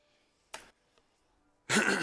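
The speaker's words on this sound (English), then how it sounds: "Now I need to cough all the time, sorry." A person gives a short, sharp throat-clearing cough, then a tiny catch of breath, followed moments later by a louder, rough burst of coughing up close.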